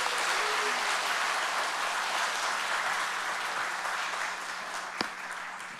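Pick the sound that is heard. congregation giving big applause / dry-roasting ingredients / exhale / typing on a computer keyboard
congregation giving big applause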